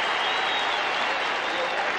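A stadium crowd at an NFL game roars steadily after an extra point kick, a loud, dense wall of cheering and clapping with no break.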